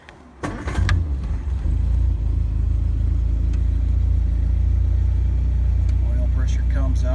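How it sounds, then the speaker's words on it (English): A 1960 MG MGA with the choke pulled cranks briefly and starts, settling into a loud, steady idle that runs on close by. "Turn the key, pull the choke."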